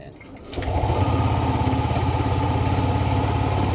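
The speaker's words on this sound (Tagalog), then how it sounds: "papaanda rin natin tong motor, dapat umabot ng 60 degrees temperature nito" A Yamaha Aerox or Nmax 155 scooter engine starts up close by and settles into a steady, buzzy idle with a fast, even putter that runs unbroken to the end.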